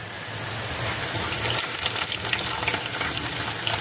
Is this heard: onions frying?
yes